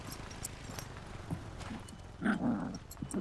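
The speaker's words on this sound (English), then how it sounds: "Do you like the dog noises?" Dog noises from the hunting game theHunter: Call of the Wild, a rough low growl swelling up midway and recurring near the end, set over a steady background of game ambience.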